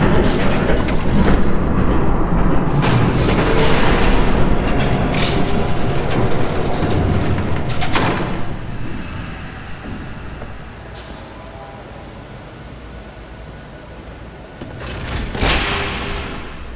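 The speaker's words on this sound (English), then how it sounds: "There's a train coming." A train in Batman: The Telltale Series rumbles past, loud and close, with heavy rolling noise and bursts of clattering and booming, then fades to a quieter rumble before another surge near the end.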